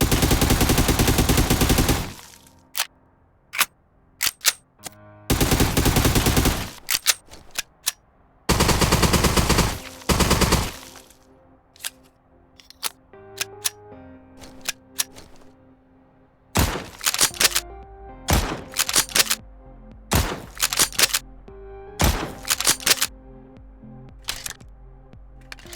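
Gunfire from a multiplayer first-person shooter in development: long sustained automatic bursts alternating with sharp single shots and short rapid strings, loud and close, with brief gaps between volleys.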